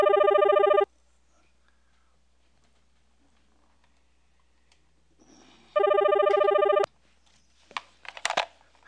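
A telephone rings in two separate bursts a few seconds apart, loud and close with a steady electronic trill, separated by near silence and followed by faint rustling and handling noises.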